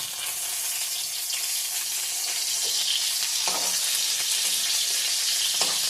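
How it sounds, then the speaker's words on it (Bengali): Rohu fish heating in a pan gives off a steady, close sizzle of hot oil, broken by a few soft scraping stirs, with no voices. "মাছটা একটু গরম করে নিলাম"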